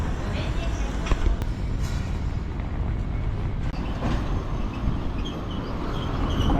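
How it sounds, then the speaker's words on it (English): One of the older surviving trams runs through a Hiroshima city street, a continuous loud rumble and rattle of wheels and car body with a couple of sharp clanks. Street noise is mixed in, and a voice may be talking underneath. "We've got one of the older trams here"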